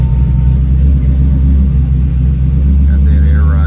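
A 1953 Chevy 3100 truck engine runs at a steady idle close by, a loud, even low rumble that holds throughout, with a faint rising tone near the end.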